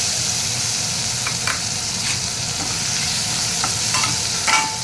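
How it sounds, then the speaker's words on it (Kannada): Chopped onion frying for dal tadka, a steady close sizzle filling the pan with a few soft stirring scrapes on top and no voices. "ನೀಟಾಗಿ ಫ್ರೈ ಮಾಡ್ತೀವಿ"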